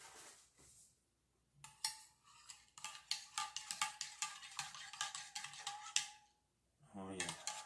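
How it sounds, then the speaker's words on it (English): A spoon clinks and taps rapidly against hard surfaces in a run of bright, close metallic strikes, pausing briefly before a final burst, while a voice is faintly present. "Got a spoon here."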